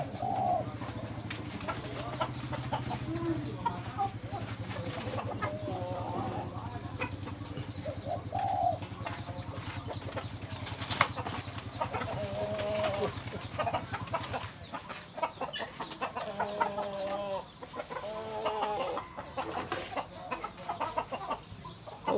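Chickens clucking close by in repeated short calls, with cooing bird sounds and a low steady hum in the background during the first part.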